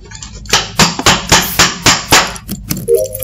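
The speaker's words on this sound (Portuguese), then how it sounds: "Meu Deus, martelada aqui." Hammering in an Among Us game, a series of about eight sharp, loud metallic strikes in a fairly even rhythm, each ringing briefly, close up with no talking.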